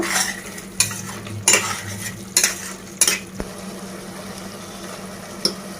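Paneer cashew curry in oil being stirred in a pan, with a steady low sizzle beneath a few sharp clanks of a spoon against the metal pot, close and without talk.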